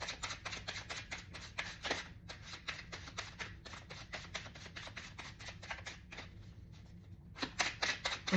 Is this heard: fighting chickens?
no